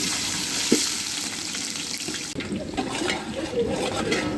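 Onions hit hot oil with roasted whole spices in a large batch for pulao, giving a loud, steady close-up sizzle with a sudden change in texture partway through as they go in.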